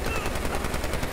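Rapid automatic gunfire from the shooter game Medal of Honor Warfighter, a loud, dense burst of evenly spaced shots rattling continuously for just over a second.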